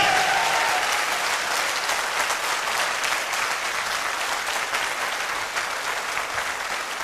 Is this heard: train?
no